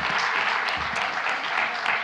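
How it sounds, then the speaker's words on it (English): Audience at a symposium's closing session applauds in a dense, steady burst of clapping that fills the room for the whole stretch, with no voices standing out. "Big hand for all of you staying to the end of the day."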